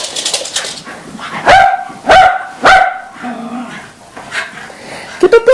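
Several puppies bark and yip close by in sharp bursts, with high whimpering calls between the barks.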